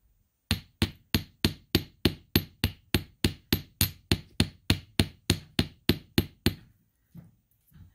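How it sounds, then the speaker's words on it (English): A chasing hammer strikes steel for earrings in a fast, even series of about eighteen sharp, close metallic blows, then stops, followed by a couple of faint knocks. "let's switch to my chasing hammer and we'll give it some texture"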